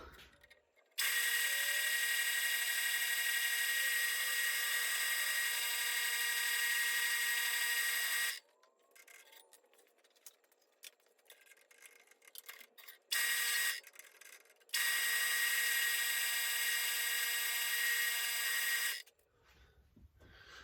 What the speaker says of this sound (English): I've got 2 1/4-inch pinholes and then a 5/16 lanyard tube hole there that we're gonna drill out.